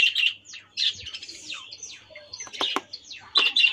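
Budgerigars in a breeding colony chirp and squawk for food, rapid overlapping high-pitched calls, close and lively, with no talking.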